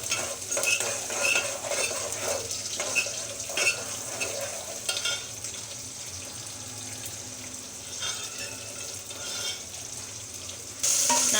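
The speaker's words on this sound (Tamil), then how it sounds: "அப்போ அதுதான் வேகமாக வதங்கும் வெங்காயம்" About thirty small shallots with a little salt sautéing in oil, a continuous dense sizzle with repeated spoon scrapes and clinks against the pan, close, steady and fairly loud, without speech.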